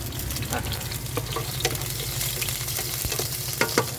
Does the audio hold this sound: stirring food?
yes